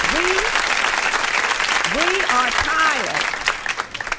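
Rally crowd applauding and cheering, a dense wash of clapping with voices calling out over it, fading slightly toward the end.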